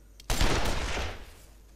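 A sharp burst of video game gunfire strikes suddenly and fades over about a second, loud and close with a brief rattling tail.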